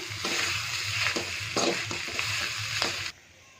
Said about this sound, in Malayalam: ഉരുളങ്കിഴങ്ങ് വേവിച്ച് ഉടച്ചു വെച്ചിട്ടുണ്ടല്ലോ അതും കൂടെ ചേർത്ത് കൊടുക്കാം നന്നായിട്ട് ഇളക്കി യോജിപ്പിക്കണേ